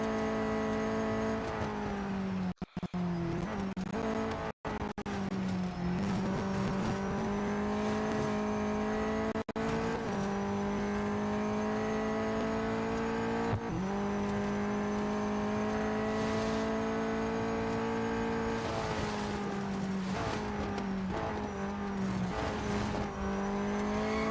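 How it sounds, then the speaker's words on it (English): Racing car engine droning steadily throughout in the video game Real Racing 3 at Monza, with tires squealing and sliding at moments, loud and continuous with no talking. "car sliding all over the place"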